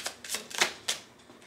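Astrology cards handled and laid out on a surface: a few quick papery flicks and slides, soft and close, with no voice.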